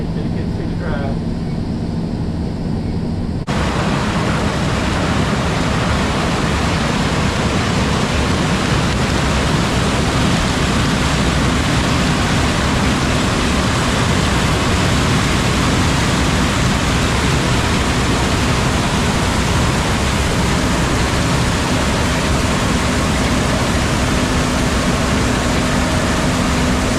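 Heavy hurricane rain pours down in a steady, loud broadband roar that runs unbroken throughout, following a brief quieter opening, on a farm during harvest.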